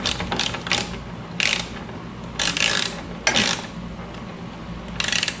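A ratchet snugs up fairing bolts on a Kawasaki Vulcan VN1700 motorcycle with several short bursts of close, rapid clicking, separated by brief pauses.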